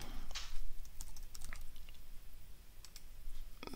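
Computer mouse clicks while selecting tracks in audio editing software, a scattering of sharp, close clicks at irregular intervals over faint room noise, with no speech.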